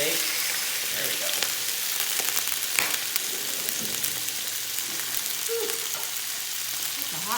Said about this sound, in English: I'm just infusing the oil a little bit with the red pepper flakes